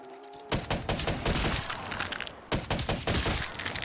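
Light machine gun fire in a zombies video game, long rapid bursts of shots with a brief pause midway, loud and close.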